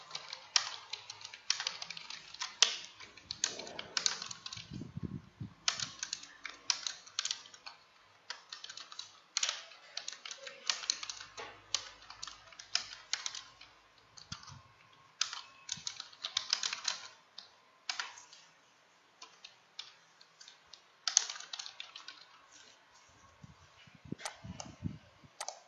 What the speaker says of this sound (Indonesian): langsung ketik catatan yang ada di bagian bawahnya